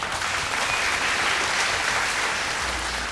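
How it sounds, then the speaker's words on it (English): A large audience at a televised vocal competition claps continuously, a dense and even wash of applause sustained throughout at a moderate level. "Please give him a round of applause as he makes his way onto stage."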